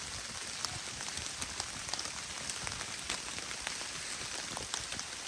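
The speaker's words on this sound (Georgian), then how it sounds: "კარგია რომ გაზაფხულის წვიმა არის" Spring rain falling in a forest, a steady soft patter of drops on leaves and surfaces, fairly quiet and unbroken, with no talking.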